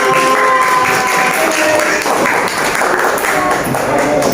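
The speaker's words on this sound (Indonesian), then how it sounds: "beri tepuk tangan untuk Mas Eka" Students in a classroom board-game listening lesson applaud a classmate, Mas Eka. The clapping is loud, dense and sustained, a steady wash of many hands held evenly for several seconds.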